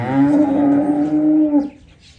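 A Jersey Cholistani Friesian dairy cow gives one long, loud, close moo lasting over a second and a half, followed by quieter outdoor farm background.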